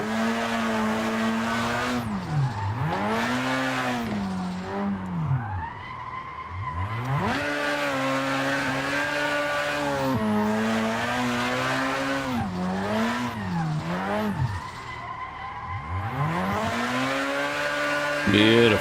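Simulated car drifting in Assetto Corsa on a street course, tires squealing in long rising and falling sweeps over a steady engine drone, loud and continuous with repeated slides.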